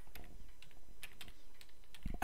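Quiet keystrokes on a computer keyboard tap out a short word in irregular clicks, close and soft, with a slightly louder burst of keys at the end and no talking.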